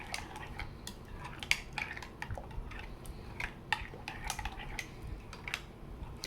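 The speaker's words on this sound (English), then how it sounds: "So that is why I'm stirring like this, to make sure that the fragrance oil is mixed in." A utensil stirs peppermint fragrance oil into melted melt-and-pour soap, giving soft irregular clicks and scrapes against the container, quiet and close with no talking.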